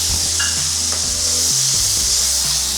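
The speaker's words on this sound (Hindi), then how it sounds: "इसे भी हमें अच्छे से फ्राई करना है" Onion paste with ginger and garlic sizzles loudly and continuously in a pan, with occasional stirring scrapes underneath; no talking.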